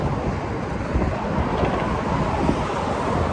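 Strong wind buffets the microphone near the Golden Gate Bridge in San Francisco, a steady, loud roaring rumble with no break from start to end.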